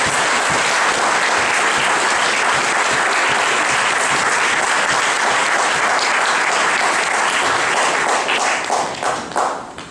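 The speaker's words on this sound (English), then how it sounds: "let's give them a round of applause" Loud, sustained applause from a large audience at a political convention, dense clapping filling the whole stretch before tapering off near the end.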